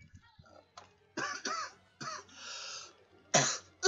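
One person coughs several times in harsh, separate bursts, close to the microphone, with short pauses and a little throat clearing between them.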